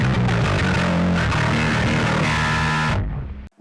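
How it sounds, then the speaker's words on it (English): Electric guitar through a DSM Noisemaker Sub Atomic X-Over distortion pedal set to full distortion blend with no delay, a loud sustained fuzzy chord ringing for about three seconds before cutting off abruptly. "And then full blend, which would be all distortion"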